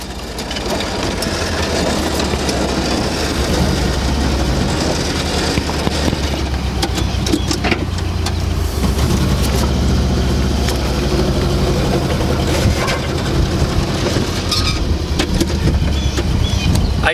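A Porsche 914 engine running while the car drives through an alley: a loud, continuous, close mechanical rumble with rattles and bumps, steady in level throughout.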